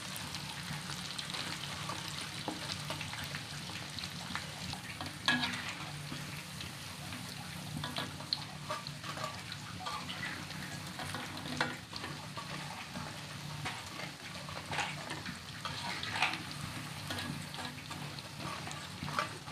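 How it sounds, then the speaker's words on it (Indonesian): Sumpia spring rolls fry in hot oil over low heat while being stirred, a steady close sizzle and crackle running throughout with faint scraping and bubbling. "Jadi ngegorengnya harus sambil diaduk-aduk."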